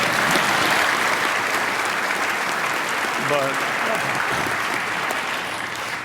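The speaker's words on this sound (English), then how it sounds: "It's okay to cheer there, too" Audience applause and cheering fill a hall during a Basketball Hall of Fame enshrinement speech in Springfield, a dense steady clapping that holds throughout and fades slightly at the end, with a brief spoken word over it.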